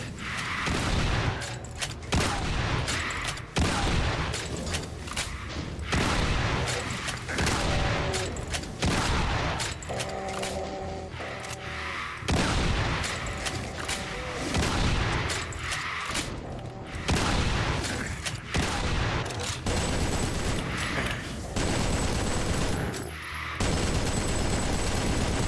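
Chain gun in the classic shooter Doom hammering out sustained bursts of rapid gunfire, loud and close, with brief pauses, explosive booms and game effects layered throughout.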